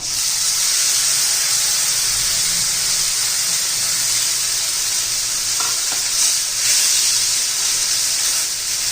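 Moth beans tipped into hot oil with turmeric sizzle loudly and steadily throughout, a dense frying hiss with faint stirring scrapes near the end.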